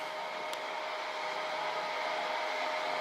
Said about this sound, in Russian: Вентилятор этот вент, по-моему, называется. Очень шумный, конечно.